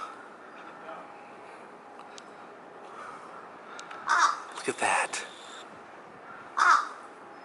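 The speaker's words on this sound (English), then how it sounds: "Right at the haunted house is, I believe, a black crow." A black crow caws outside a haunted-house attraction in an old-town amusement area, two or three harsh calls at mid-distance over quiet outdoor ambience, with a short spoken remark nearby.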